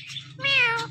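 A parrot imitates a cat's meow, giving one short drawn-out mewing call over a steady low hum, loud and close.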